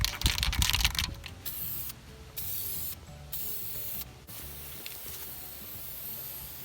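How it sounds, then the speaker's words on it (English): Bursts of clear coat hiss from a spray can onto sanded, heavily oxidized car paint, coming as several close, loud sprays of a second or so each, separated by brief pauses. "We'll sand down the rest of the paint and then add a coat of clear coat."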